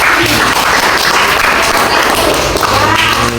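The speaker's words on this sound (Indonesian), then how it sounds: "Oke, beri aplaus" A classroom of students bursts into loud, dense applause, many hands clapping together continuously at close range with voices mixed in.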